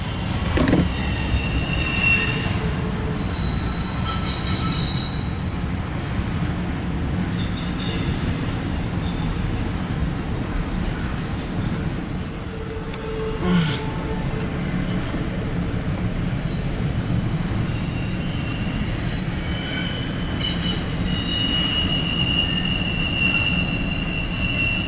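CSX intermodal freight train led by an SD70AC locomotive rolls past nearby, a steady loud rumble of railcars with wheel squeal and rail clatter filling the whole stretch without pause.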